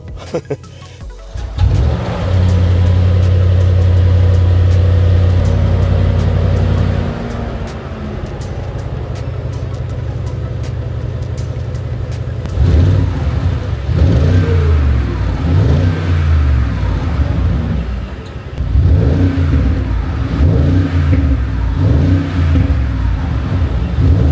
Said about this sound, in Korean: 컴포트 모드 놓고 다니면 굉장히 묵직하고 중후한 엔진음과 배기음이지만